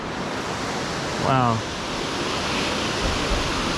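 A waterfall and river rush below a bridge beside a cliffside trail, filling the scene with a steady, loud, broadband roar that never lets up; a single voice briefly exclaims over it.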